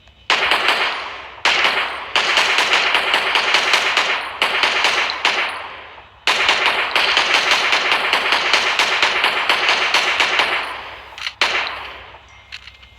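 Long sustained bursts of rapid automatic gunfire, loud and close, broken by a few short pauses before trailing off.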